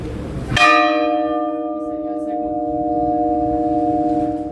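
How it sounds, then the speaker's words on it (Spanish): A church bell at San Bernardino church rings to announce the Eucharist: one strong strike after a short quiet start, then a long bright humming decay that lingers loud and steady. "el sonido que va más unido entre campana y campana, que es para avisar que hay Eucaristías"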